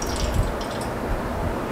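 Water draining steadily out of a honey test, a continuous close trickle and splash of liquid with no pauses and no voices.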